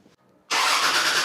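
A car engine cranks briefly after a near-silent pause, then catches and runs at a steady, loud idle on a budget VIP-style car build, the test fire done before the plastic covers go on.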